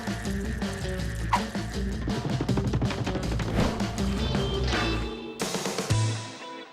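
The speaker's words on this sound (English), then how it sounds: "we've used water to power the wheel" Water flows and splashes continuously over a Roman-style water wheel, a busy, bubbling stream of trickles and drips that stays steady, then briefly shifts near the end.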